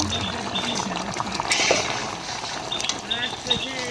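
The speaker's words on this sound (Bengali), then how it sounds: "আর একটু ফুটে নেব" A pot of fish curry simmers and bubbles steadily on the stove, with a soft, continuous bubbling close by and a voice speaking faintly over it.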